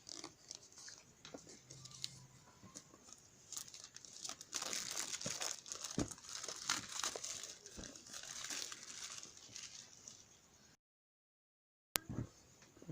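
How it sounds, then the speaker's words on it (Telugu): Plastic wrap is peeled and torn off a Realme 6 phone box at close range, with irregular crinkling and rustling that builds in the middle, then near-silence and a single sharp click. "దీని మీద ఇప్పుడు కవర్ని తీసేద్దాం మనం."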